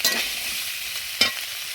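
Soybean chunks frying in a wok are stirred lightly, with a faint background sizzle and two short scraping strokes, one at the start and one near the end.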